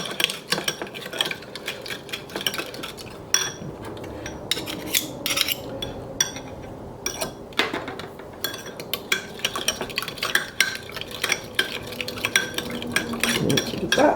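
A spoon stirs a mayonnaise dressing in a bowl, with continuous scraping and clinking against the sides in quick irregular strokes, close and fairly loud, with no talking.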